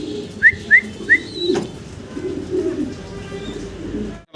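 A pair of blue bar Spanish fancy pigeons coos with soft low murmurs, and three short bright chirps come near the start. Nearby pigeons coo faintly in the background throughout.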